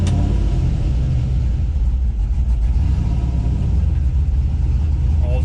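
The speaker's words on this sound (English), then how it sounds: "I've got an exhaust cut out, but I'm going to leave it open because it sounds great." A turbocharged LS-swapped Chevrolet C10 squarebody pickup with its exhaust cutout open rumbles loudly and steadily at close range, a deep idle-like drone that holds throughout without clear rev spikes.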